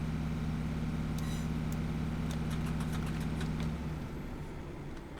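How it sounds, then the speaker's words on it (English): A steady, rumbling Class 156 diesel train engine in Train Simulator Classic drones at an even pitch, with a low throbbing hum that eases slightly near the end. "Oh, listen to that engine."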